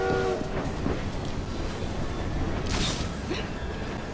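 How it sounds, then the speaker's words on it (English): Steam train rolling past in Assassin's Creed Syndicate, a steady loud rumble of wheels and carriages with a horn blast near the end and no talk. "train."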